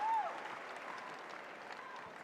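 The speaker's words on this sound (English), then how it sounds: "Takes the applause of the crowds." Crowd applause rolls around Wimbledon's Centre Court after a Swiatek win, a steady broad wash of clapping that holds at a moderate, distant level for a couple of seconds with no talk.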